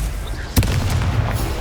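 A fire-blast spell bursts with a sharp, loud boom in the Hogwarts Legacy video game, followed by a short rumbling tail, against steady game background sound.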